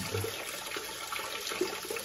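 Water pouring steadily into a cooking pot to simmer smoked etag (cured pork), a continuous splashing wash with no talk over it.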